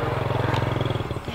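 A motorcycle on a road in a horror game passes with a close, loud, rapidly pulsing engine putter that fades at the end.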